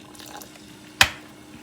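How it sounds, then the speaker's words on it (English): A single quick splash of white wine vinegar lands in simmering water, a short sharp burst over a faint background of bubbling. "we're gonna go ahead and add a little bit of vinegar to it. I have white wine vinegar."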